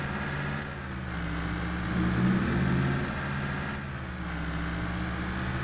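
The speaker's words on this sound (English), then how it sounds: "Both two different sounding trucks, and just listen to this thing go." Modded truck engine running in a video game, a steady low rumble with a throaty mid-range tone that rises briefly in the middle, then settles back to an even drone.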